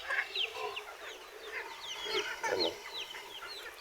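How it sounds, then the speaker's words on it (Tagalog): Chickens clucking at a farm in a steady, overlapping chorus of short calls at moderate distance, with one brief spoken word. "may manok pala tayo dito ng mga halimim"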